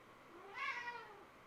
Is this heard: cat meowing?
yes